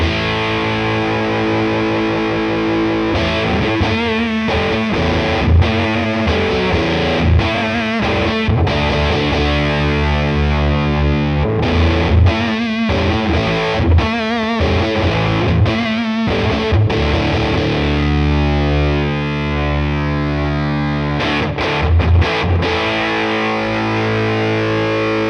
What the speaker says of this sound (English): adds a more of an overdriven, pushed sound